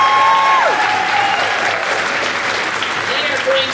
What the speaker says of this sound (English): Let's give our kinders a big round of applause.